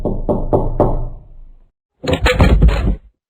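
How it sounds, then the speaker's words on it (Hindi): Knocking on a house door, four firm close knocks in a quick, even rhythm, followed after a pause by a louder burst of rapid knocking or rattling on the door. "सुबह जब जसवंती की नींद खुली तो कोई उसके घर का दरवाजा खटखटा रहा था।"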